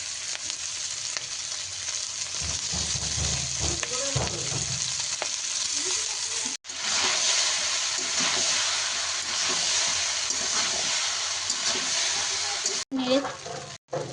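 Boiled, drained pasta goes into a pan of fried onions, giving a loud continuous sizzle and hiss close up, with stirring scrapes and brief clatter; a voice talks over the cooking in places.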